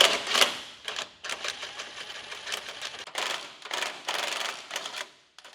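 Power tool spinning loose the tight 17 mm bolts on a Mitsubishi Pajero NM-NX, a rapid mechanical rattle in several close bursts with short pauses between them.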